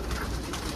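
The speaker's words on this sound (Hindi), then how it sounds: "सारे बॉर्डर वाले टोटल बॉर्डर वाले कबूतर हैं" Border pigeons, a Punjabi pigeon breed kept in a flock for sale, coo softly over a steady close background hum.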